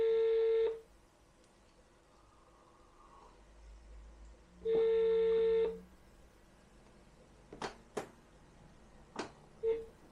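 A telephone number is dialed: two separated long electronic tones, then several sharp short beeps at irregular intervals, all against a quiet background.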